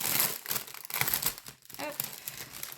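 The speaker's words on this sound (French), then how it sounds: "Alors, je vais vous le déballer." A Harry Potter cross-stitch kit package is unwrapped up close, with bursts of crinkling plastic and paper and a brief tearing sound in irregular rustles, no talking.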